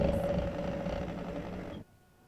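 A sewing machine runs steadily, stitching frill fabric onto the legs of girls' three-quarter pants, with a close, even mechanical whir that holds for nearly two seconds and then cuts off, leaving quiet.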